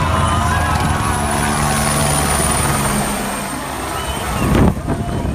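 A helicopter flies overhead while filming movie camera shots, its steady rotor and engine drone loud and continuous, with a brief swell near the end.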